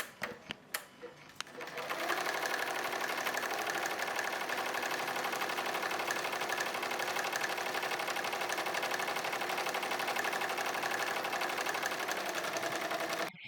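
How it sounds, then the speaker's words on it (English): A Smartstitch embroidery machine stitches a wristlet keychain design held in a MagnaHoop belt hoop, starting after a few clicks and then running as a steady, loud, rapid mechanical chatter close by. "Now the machine begins stitching."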